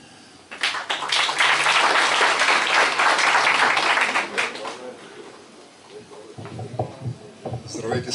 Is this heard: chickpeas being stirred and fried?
no